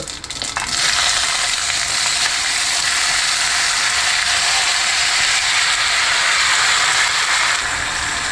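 A mixer grinder grinds masala in a loud, continuous close-up whir with a gritty crushing rattle, starting after a brief rough onset and running steadily with no voices.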